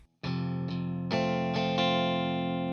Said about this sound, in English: the strumming pattern is just a 2-beat pattern that you can play over and over